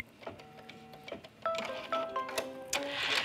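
An embroidery sewing machine stitches lining and fabric to the edge of a zipper, giving close rapid mechanical whirs with tonal motor whines and bursts of stitching activity.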